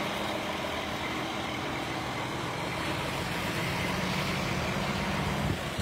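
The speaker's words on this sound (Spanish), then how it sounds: "Ya hay bastante tráfico en esta ruta." Heavy road traffic on a busy route in zona 4 of a departmental capital, a steady moderate rumble of passing cars and trucks with no distinct voices.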